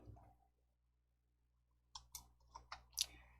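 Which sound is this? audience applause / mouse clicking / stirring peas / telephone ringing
mouse clicking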